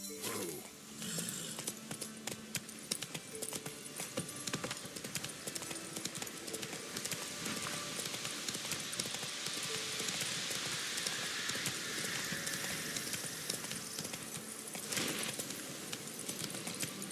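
Horse hooves clip-clop steadily in a video game, a continuous rhythmic trot with faint mechanical clicks in the background.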